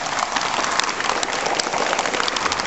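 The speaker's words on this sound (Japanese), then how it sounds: "拍手で応えたいと思います。" A gathered crowd at the Okinawa prefectural office applauds Diet members, steady dense clapping held evenly throughout the short stretch.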